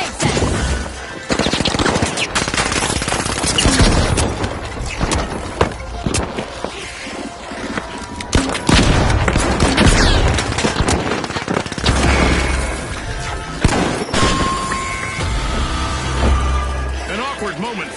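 Grenade blasts and rapid gunfire in a team-based shooter video game crackle and boom densely and continuously, with bursts and crashes piling up while a commentator talks throughout.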